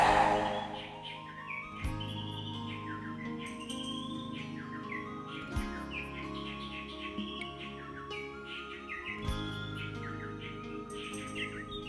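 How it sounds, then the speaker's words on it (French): A Marquesan reed warbler, endemic to the Marquesas Islands of French Polynesia, sings a long run of varied chirping, warbling phrases, clear and continuous over a steady tonal background hum. "Je suis une des 2 rousserolles endémiques des Marquises"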